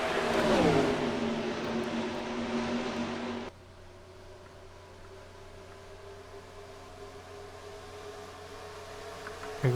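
Stock race cars in a sim racing game at Pocono, a loud engine roar sweeping past near the start, then cutting to a steadier, fainter drone of cars running down a long straightaway.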